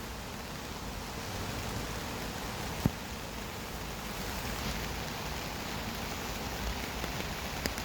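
Heavy rain pours steadily on the ground during a rainy-day dog walk, a dense, continuous hiss close by with no voices.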